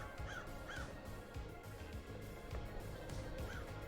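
Crows caw in the game Paradise Killer, three short rasping calls at intervals over a dense, steady bed of ambient game sound.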